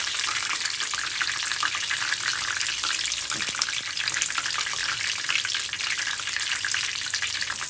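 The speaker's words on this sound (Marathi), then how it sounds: "याला मी थोडंसं तळून घेते, मग आपण याला काढून घेऊया. याला फुल फ्लेमवरतीच फ्राय करायचं आहे." Bhaje fritters frying in oil over a full flame give a loud, steady, close sizzle and crackle that runs unbroken from start to end, with no voices.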